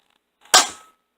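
A single sharp, loud pop from a BuzzBee Rapid Fire Tek toy dart blaster fired at a home range, close up and alone with a short fading tail.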